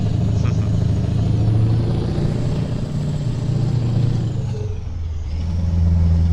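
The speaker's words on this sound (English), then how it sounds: "engine brakes, especially here in Europe, don't sound the same as they do in America" Heavy truck engine braking in Euro Truck Simulator on an Irish road, a steady low droning engine note that dips briefly then returns, continuous and close, with no talk over it.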